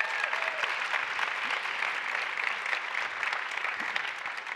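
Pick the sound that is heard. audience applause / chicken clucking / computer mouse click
audience applause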